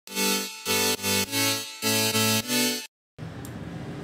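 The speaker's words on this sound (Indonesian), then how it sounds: "Layer pertama itu bunyi main synth" Main synth layer of an EDM track built from Serum square waves: bright, buzzy stabbed chords in a short rhythmic pattern of sustained notes, loud and alone, followed by a brief gap and a noisy tail.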